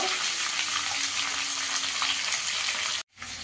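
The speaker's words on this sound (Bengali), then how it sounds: "আগে এবার শিমটা দিয়েও ভালো করে একটু ভেজে নেব।" Flat beans fry in a pan for an amudi fish chachchari, giving a steady, close, dense sizzle that cuts out briefly near the end and then resumes.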